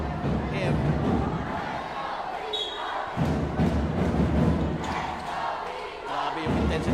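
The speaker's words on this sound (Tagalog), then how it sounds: "Grabe yung intensity ng crowd dito sa loob." An intense crowd roars inside an indoor basketball arena during a provincial league game, a dense, loud babble of shouting and cheering that swells and dips, with sharp thuds and a commentator talking over it.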